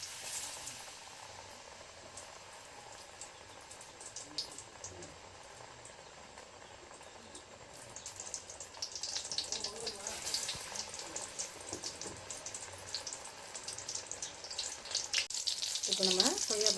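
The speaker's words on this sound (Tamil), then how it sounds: "எண்ணெய் நல்லா காஞ்ச பிறகு நம்ம கொய்யாப்பழம் பஜ்ஜியை போட வேண்டியது தான்." Guava fritters (bajji) frying in hot oil, a hissing, bubbling sizzle that swells louder and busier partway through, close up, with occasional faint background sounds.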